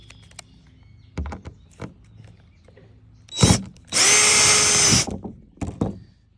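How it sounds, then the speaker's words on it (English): A power drill drives a screw into recycled pallet wood for a model train table, one steady whirring burst of about a second, loud and close, framed by handling knocks and clicks before and after. "Now I should be able to get that screw down in there just nicely now."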